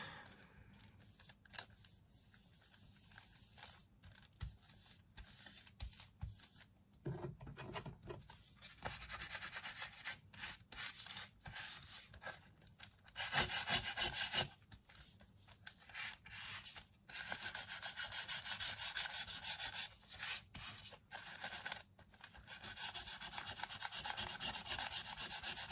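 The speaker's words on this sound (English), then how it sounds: "let's burnish." Glitter is burnished onto raw polymer clay by hand, a quiet, continuous rubbing and scratching with irregular soft strokes and occasional pauses, close up and faint.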